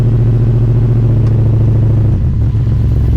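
Mercury Cougar engine idles loudly and close while the automatic transmission sits in park, a steady low rumble that dips briefly near the end as the gear changes.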